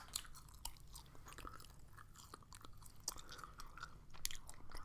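Extra cinnamon gum is chewed close to the ear, with soft, wet, sticky smacks and small clicks repeating at an irregular pace, quiet and isolated.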